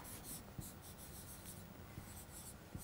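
Pen writing an answer on paper, a faint, close scratching with a few light taps as strokes begin, quiet and with no talking.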